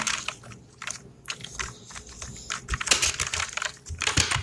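Fingers type steadily on a computer keyboard while entering text in Microsoft Excel, producing a dense run of clicking keystrokes with a few louder taps, close up over a low background hum.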